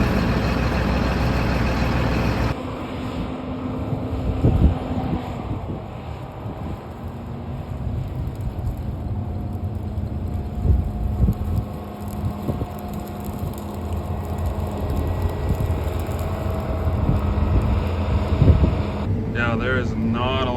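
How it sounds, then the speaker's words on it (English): Strong gusting wind roars and buffets around a parked harvest truck on the last day of harvest, a continuous loud low rush with irregular thumps and faint mechanical hum underneath. "Crazy wind today."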